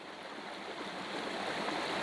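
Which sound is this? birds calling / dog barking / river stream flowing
river stream flowing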